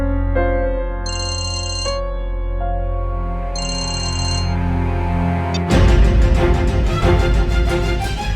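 A phone ringtone plays a melodic repeating tune, then cuts off abruptly as the call is rejected, followed by different louder music.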